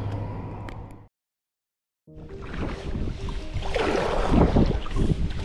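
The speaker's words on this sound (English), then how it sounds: "sometimes you get the easterly blowing your face like it is right now" An easterly wind buffets the microphone aboard a fishing boat, with a dropout to near silence before strong gusty roaring returns and builds, no talking.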